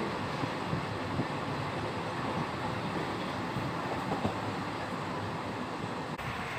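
Steady rumbling roar from inside a moving passenger train, broadband and constant with faint rhythmic clatter of the wheels, even and unbroken throughout.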